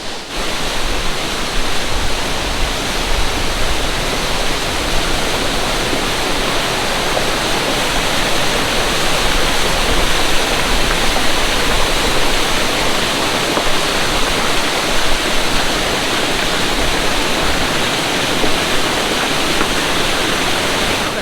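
Water pouring out of a cliff face on Cedar Mountain in Southern Utah's high country, a loud, steady rushing roar like a small waterfall that continues unbroken and unaccompanied by any voice.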